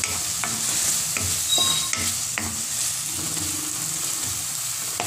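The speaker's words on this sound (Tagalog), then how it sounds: "Once na malambot na ang tomato, ilagay muna ang fish sauce." Fish sauce goes into a pan of softened, cooking tomatoes for ginataang hipon, giving a steady close sizzle with repeated utensil clicks and scrapes of stirring against the pan, no voices.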